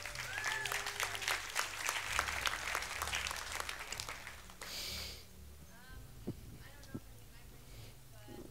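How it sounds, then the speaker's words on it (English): An audience gives a round of applause at a mindset talk; the clapping is steady for about five seconds, then breaks off, and a person talks faintly afterwards. "Could I have a round of applause for Tanya, please?"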